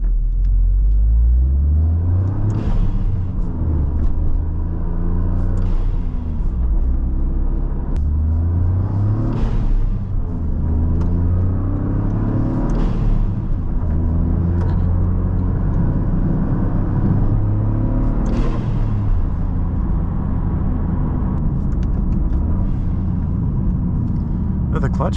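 A highly modified bright red Toyota GR Corolla drives along, its engine droning steadily with revs climbing and falling through gear changes, while someone talks over the low rumble throughout.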